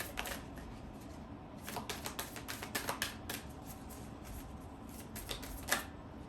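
Tarot cards are shuffled and drawn in quiet, faint bursts of papery riffling and soft snapping flicks, irregular and close by.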